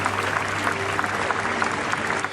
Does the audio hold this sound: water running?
no